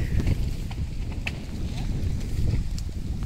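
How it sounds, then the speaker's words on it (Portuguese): Wind gusts along a Brazilian riverbank during a fishing outing, strong enough to break a tree across the water. Low, rumbling buffeting keeps up throughout, with faint voices and scattered small knocks in the background. "olha o vento"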